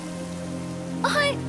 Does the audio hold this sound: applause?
no